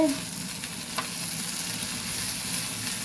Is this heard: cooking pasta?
yes